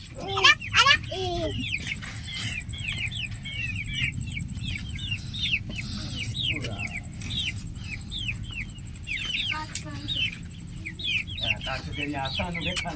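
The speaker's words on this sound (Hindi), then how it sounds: "ये जी मुर्गी के बच्चे हैं" Chicks of a Grace chicken breed cheep and chirp in a rapid, continuous stream of high calls close by, with occasional clucks and people talking underneath.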